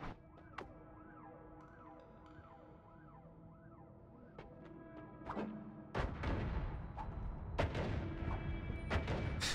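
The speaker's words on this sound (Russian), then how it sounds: "Получается взрыв вот этот и яичко." Video game wand spell explosions in Noita, loud crackling bursts hitting in quick succession over a backdrop of wavering whistling tones that sweep up and down.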